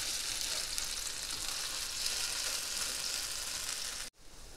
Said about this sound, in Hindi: कबाब हमारे दोनों तरफ से फ्राई हो गए हैं